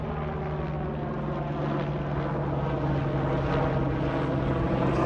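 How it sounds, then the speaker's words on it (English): A loud, steady helicopter drone with rotor thrum fills the air, holding constant and close without any voices. "Oh, we got a chopper."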